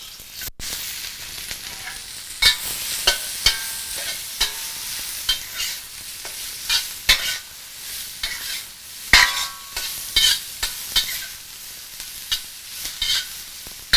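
Peppers, ginger and lemongrass stir-frying in a pan for a lobster stir fry, a steady hiss of sizzling broken by repeated sharp scrapes and clacks of stirring.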